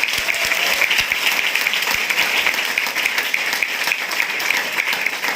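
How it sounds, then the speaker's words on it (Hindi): An audience applauds Surendra sir in a long, even burst of many hands clapping together, loud and close, continuing without pause or voices. "सुरेंद्र सर के लिए एक जबरदस्त ताली होना चाहिए"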